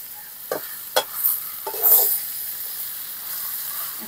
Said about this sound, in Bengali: ভেজে রাখা আলু দিয়ে আমি আবার একটু ভালো করে মিশিয়ে নিয়ে জল দিয়ে দেবো।